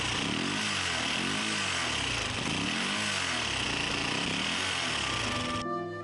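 An old motorcycle engine runs loud and close, giving a harsh, rattling, continuous drone whose revs rise and fall in slow waves before it cuts off near the end.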